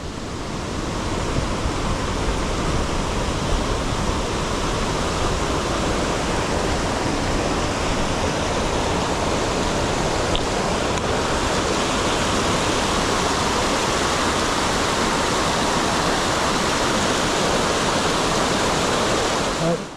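A mountain creek on the Wonderland Trail rushes along in a loud, dense, unbroken roar of water heard up close, with no voices.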